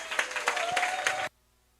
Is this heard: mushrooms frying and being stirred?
no